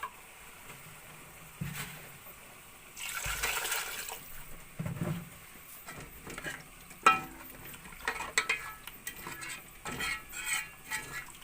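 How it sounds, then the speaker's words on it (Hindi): Water is poured into a pan of frying potatoes, giving a brief hissing splash followed by quieter sizzling and scattered clinks of a utensil against the pan, all fairly soft and without speech. "अब इसमें थोड़ा सा पानी शामिल कर लूंगी।"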